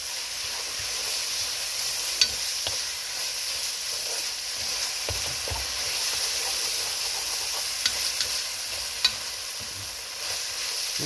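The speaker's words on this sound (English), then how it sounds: "Get the meat browned off, and you can tell by the smell" Meat browning in a pot for Kai Si Ming, a steady frying sizzle and hiss throughout with a few faint clinks, no voices.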